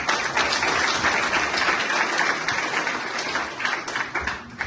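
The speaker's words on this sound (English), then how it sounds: "So big applause for all of you." A crowd applauds at the opening of a Khalsa Aid office in Winnipeg, continuous close clapping that holds steady for a few seconds and then eases off slightly.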